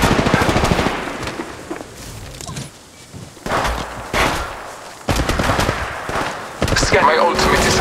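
Rapid automatic gunfire bursts in the mobile shooter game Apex Legends Mobile, loud and close, coming in several separated volleys with short pauses, mixed with game voice callouts.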